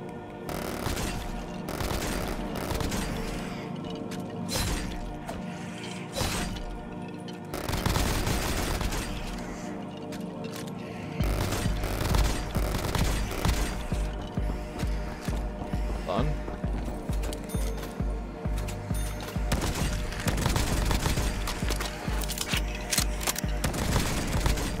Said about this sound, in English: Oh no, that was a minigun right there.